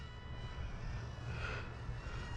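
An EPP foam delta-wing RC airplane, an AIR HERALD FX601, flies overhead with a steady electric motor whine and a faint rise in pitch, heard at a distance over background noise.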